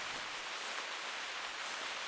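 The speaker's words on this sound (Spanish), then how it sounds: "Ahora mismo ha empezado a llover." Steady rain in the hunting video game The Hunter Classic, set at Redfeather Falls, falls as a dense, even hiss of drops without pause, constant and fairly close, with no talking.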